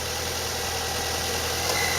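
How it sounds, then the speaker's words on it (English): A car engine runs steadily at close range during an automotive climate-control service, its low hum and vibration holding an even pitch with no clear surge in revs. "You can rev up the engine,"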